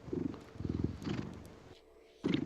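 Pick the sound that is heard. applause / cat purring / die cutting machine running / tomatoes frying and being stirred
cat purring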